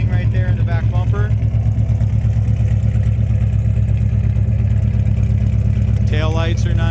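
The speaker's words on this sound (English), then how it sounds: "Dual exhaust sounds good." A 1967 Chevelle Super Sport with a white frame-off restoration idles through its dual exhaust, a loud, steady low rumble close by, with a voice briefly over it at the start and end.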